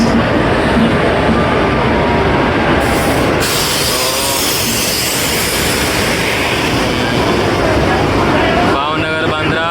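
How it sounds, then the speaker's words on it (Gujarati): A train pulls into a platform on the Ahmedabad to Borivali line as friends head to Matheran. A loud continuous rumble with steady rail noise fills the station, and people can be heard talking over it. "અમારી ટ્રેન આવી ગઈ છે હવે."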